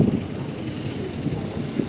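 Steady wind buffets the microphone outdoors, a low rumbling rush that continues without a break.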